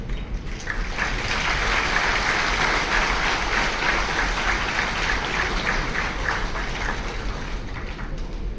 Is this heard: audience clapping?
yes